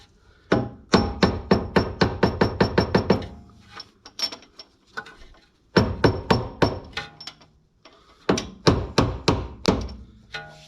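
A hammer taps repeatedly at a part during a coilover install on a BMW E46, sharp metallic strikes coming in quick rhythmic bursts with short pauses between groups, close and clear with no talking.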